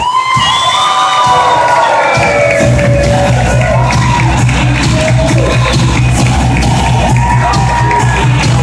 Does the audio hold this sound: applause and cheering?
yes